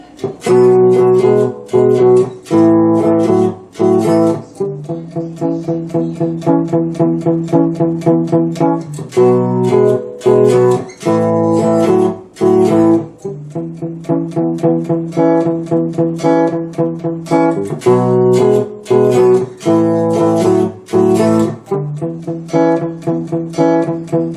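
A twangy cigar box guitar riff repeats a choppy two-note chord pattern at a slow, steady pace, loud and close with brief pauses between phrases.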